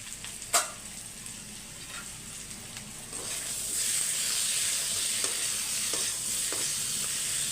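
Potatoes fry in sesame oil in a pan, giving a steady sizzle that swells partway through, with a few sharp stirring clicks and scrapes and no talking.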